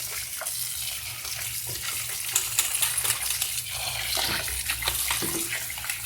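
Crabs that had been rubbed with lemon are rinsed again in water, close by, with continuous sloshing and splashing and hard shells knocking and clicking against each other and the container.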